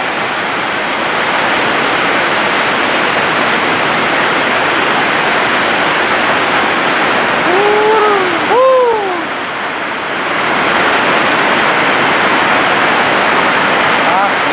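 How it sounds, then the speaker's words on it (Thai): Heavy rain pours down steadily at night around a house, a dense, continuous wash of noise that holds throughout, with a brief dip near the middle and a few faint tonal sounds over it. "บรรยากาศฝนตก"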